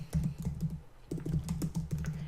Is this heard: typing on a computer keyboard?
yes